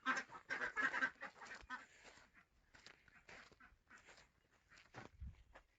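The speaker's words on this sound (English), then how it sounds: "I gotta walk past the ducks" Ducks quacking in a rapid, busy cluster near the start at an off-grid goat sanctuary, then fading to sparser, quieter calls, with a low thump near the end.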